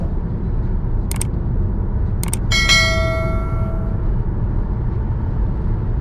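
A Suzuki e Vitara electric car sounds a warning chime while driving, with two quick electronic beeps followed by a ringing bell-like tone that fades over about a second, over steady road and cabin noise.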